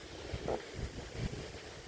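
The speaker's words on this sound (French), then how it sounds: "Le vent commence un peu à se lever" Faint gusty wind rumbles and buffets against the microphone as a storm approaches a van, a low blustery whoosh with no voices.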